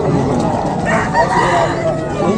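Roosters crowing amid the busy clamour of a Friday chicken market, a loud crow rising over clucking fowl and dense crowd noise at close range.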